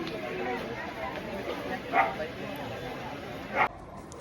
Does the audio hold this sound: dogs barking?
yes